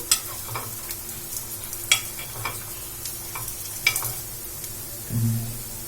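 Banana and bread pieces frying in a pan for a sweet, a soft steady sizzle broken by a few sharp scrapes and taps as the pieces are turned.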